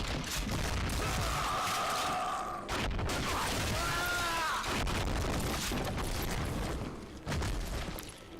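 Sawn-off shotgun blasts in the Western shooter Call of Juarez: Gunslinger, loud booming shots that recur through a dense wash of game noise, with a few short vocal sounds.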